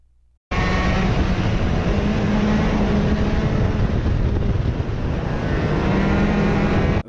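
A shifter kart engine revs hard and steady at close range, driven at speed near 74 mph, with a sustained loud drone that shifts pitch as the driver upshifts and then quickly downshifts.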